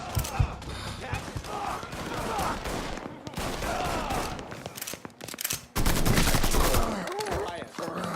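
Dense bursts of gunfire in the Mafia 3 video game: rapid automatic shots and volleys crackle almost continuously, loud and close, with a heavier burst near the end and voices calling out beneath the shooting.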